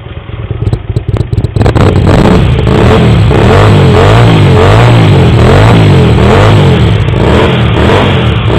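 Hyosung GT125R motorcycle fitted with a custom exhaust, ticking over then revved hard in an enclosed unit, loud rhythmic blips of rising and falling revs repeating close to the microphone.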